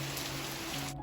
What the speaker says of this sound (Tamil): இன்றைக்கி திருப்பியும் பயங்கரமாக மழை பெய்யுது.